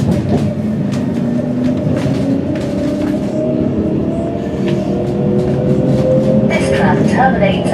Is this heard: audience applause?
no